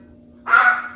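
A single dog bark or yelp, fairly close, rising suddenly from a quiet room with a steady low hum behind it and trailing off within a second.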